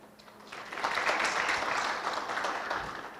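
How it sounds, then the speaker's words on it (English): Conference audience applauding panelists at a scientific conference, a broad wash of many hands clapping that swells and holds steadily across the hall, fairly loud with no talk over it. "Can we give our panelists a round of applause?"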